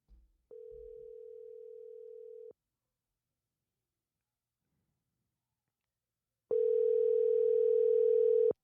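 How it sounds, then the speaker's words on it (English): An outgoing phone call rings while waiting for someone to pick up: a single steady electronic tone lasting about two seconds, a long silence, then the tone returns louder, with no talk. "let's see if today is the day that Ambra picks up the phone"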